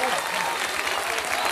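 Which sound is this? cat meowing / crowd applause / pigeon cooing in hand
crowd applause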